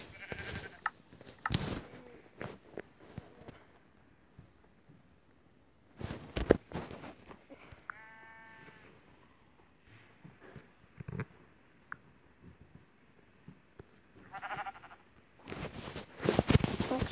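Sheep in a blocky survival video game bleat several times, short clear calls spaced apart amid scattered clicks and thuds of game actions.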